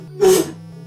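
A single sharp sneeze bursts out close by, loud and brief, over a low steady hum during a Dragon Warrior online league session.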